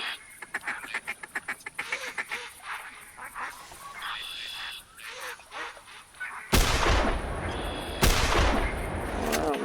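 Ducks calling and flying in on a bayou duck hunt, repeated nasal quacks and honks in quick bursts, followed by two loud close shotgun blasts near the end.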